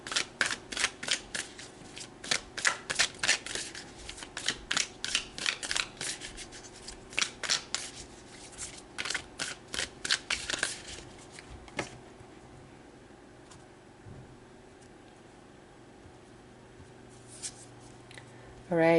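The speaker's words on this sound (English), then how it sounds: "So let's pull some more cards." Rapid, crisp riffling of tarot cards being shuffled, in repeated bursts for about ten seconds, then quieter soft rustles as cards are pulled.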